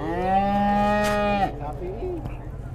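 A cow moos one long, loud, tonal call, close by, with some faint voices and farm background afterward, tied to a livestock gift at a wedding.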